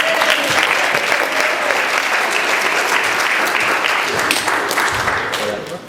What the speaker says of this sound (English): John, a big round of applause.